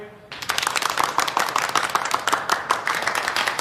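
An audience claps to welcome Secretary Ren at a factory meeting: a dense burst of applause starts abruptly, then holds steady under a voice.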